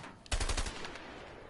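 SMG gunfire in the video game A Way Out: a single loud, rapid burst of shots up close, quickly fading into a lingering echo with no talking.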